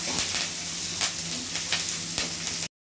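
Chopped onion fries in a tempering in the pan, giving a steady close sizzle broken by several sharp stirring scrapes, no voices, and cutting off abruptly near the end.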